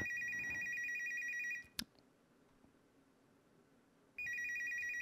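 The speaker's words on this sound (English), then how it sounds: "Is that the phone from up here?" Telephone in the video game Unmemory rings in two loud electronic bursts separated by a brief click and a pause of near silence.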